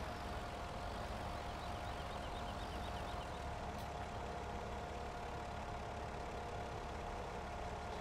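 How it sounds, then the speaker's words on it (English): A tractor engine idles steadily in the Farming Simulator 17 video game, a constant, loud, even drone that lasts throughout, with no talk over it. "moving your tractor around."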